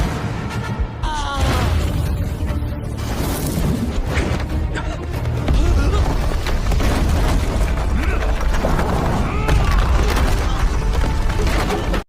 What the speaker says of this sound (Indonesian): Dan ternyata Gou akan meledakkan sebuah guci besar.